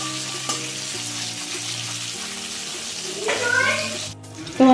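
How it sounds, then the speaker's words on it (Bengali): Ripe tomatoes frying in a pan over a spice tempering of dried chillies and black cumin, a steady close sizzle running throughout beneath background music, with a brief stirring clatter near the end. "এটা ভেজে নেব একটু ভালো করে"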